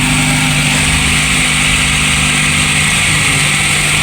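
Engine of a VW Polo Classic with an unstable idle fault, running loud and close with a steady low drone and a slight wavering pulse, no voices over it.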